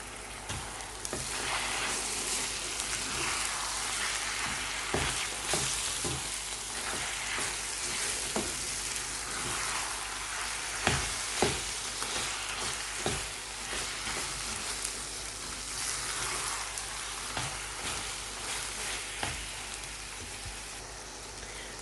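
Minced lamb and potato curry sizzling in a frying pan as it is stirred: a steady, dense hiss of frying with irregular scraping and clacking strokes of the spoon throughout, no talk.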